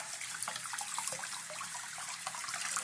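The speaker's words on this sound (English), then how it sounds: "I want to go back and rinse my car." Running water pours steadily over a diecast model car as soap is rinsed off, a continuous close splashing hiss like a tap or sink, with no talking.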